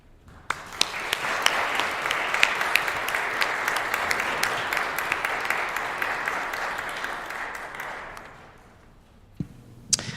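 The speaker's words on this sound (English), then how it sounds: "give him a round of applause" Audience applause at an organ recital in a church, a dense wash of clapping that swells for about eight seconds before thinning into scattered claps and fading.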